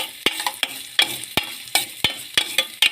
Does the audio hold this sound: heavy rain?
no